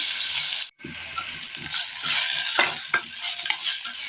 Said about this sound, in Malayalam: ഈ തക്കാളി ഒന്ന് വാടി വരണം, വാട്ടിയെടുക്കാം.